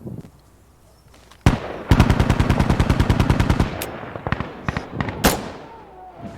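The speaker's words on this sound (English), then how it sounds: "Machine gun!" Machine gun fire in the video game Insurgency: Sandstorm, a loud close burst of rapid evenly spaced shots lasting about two seconds, then several scattered single sharp shots and bangs with distant battle noise between them.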